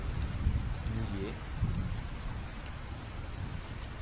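Rain falls in a ROBLOX Studio game scene as an even, continuous hiss. It stays faint and unbroken for the whole stretch, with no distinct drops or thunder.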